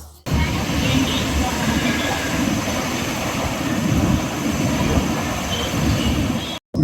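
Nagercoil Antyodaya Express train pulling into Nagercoil Junction, a loud continuous rumble of rail wagons and wheels with a wide noisy wash, heard close from on board and cut off briefly near the end.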